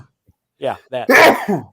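A single sharp sneeze bursts out loudly at close range, preceded by a short intake of breath, with brief talk from people nearby.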